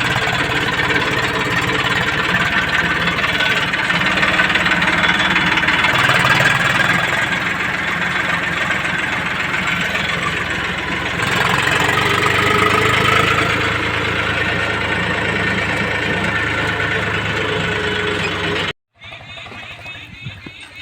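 A tractor loaded with manure sits idling on a farm, its engine putting out a steady close rumble with slight knocking before it cuts off abruptly near the end, leaving faint background sound.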